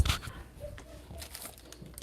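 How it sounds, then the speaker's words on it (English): Plastic freezer bag crinkling and rustling while sliced cucumbers are packed for smoothie bags, with a sharp crackle at the start and softer intermittent crinkles throughout at close range. "add it in the bag, the freezer bag"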